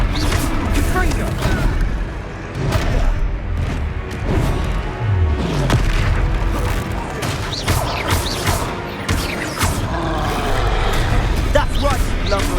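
Confringo fire spell blasts in Hogwarts Legacy during an armored troll boss fight in Hogsmeade: repeated booming explosions and impacts amid battle noise and growling, with in-game voices talking throughout.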